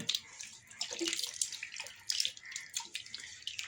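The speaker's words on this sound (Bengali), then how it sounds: "ধুয়ে নিচ্ছে আলুটা" Potatoes are rubbed clean of sandy red soil under cold running water, giving a steady splashing, trickling wash with small irregular splatters, close by and moderately loud with no talking.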